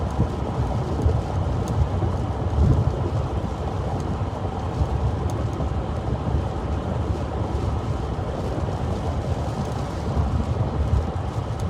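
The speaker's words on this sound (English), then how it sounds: "Wind is still blowing the car around really good, though." A steady, loud roar of wind gusts buffeting a car during a storm in Iowa, a continuous rumble with a dense low-end rush and no voices.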